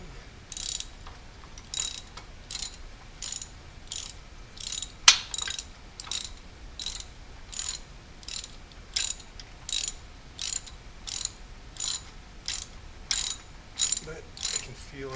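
A ratchet snugging the intake manifold bolts on an Aston Martin DB9: short bursts of quiet clicking repeat at an even pace, close by, with one sharp metallic knock partway through.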